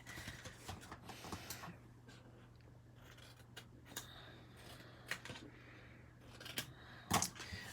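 Scissors snipping the corner of a paper gift box: quiet, scattered cuts and paper rustles over a faint steady hum, with a sharper crunch near the end.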